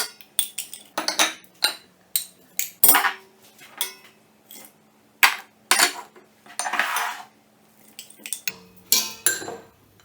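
Utensils clink and scrape against a cooking pot as meat and spices go in for harira soup, a string of close, uneven metallic knocks and taps with short pauses and no talk.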